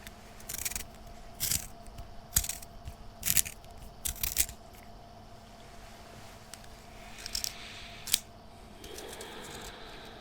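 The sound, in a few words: sharpening a pencil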